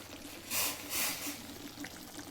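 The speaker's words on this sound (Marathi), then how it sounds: "आता ह्याच्यात उकळलेला गरम पाणी घालूचं." Boiled hot water poured into a pan of cooked tomatoes for a spicy shev bhaji curry, coming as two short, splashy hissing bursts over a low steady background.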